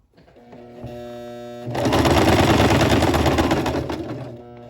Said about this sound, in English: I'm going to sew a little bit more so you could see what it looks like afterwards.